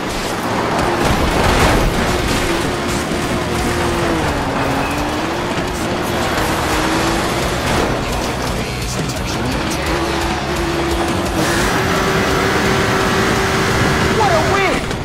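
Race car engines in a dirt racing video game on the final lap, continuous revving and droning with shifting pitch as cars overtake, with a voice talking over the engines.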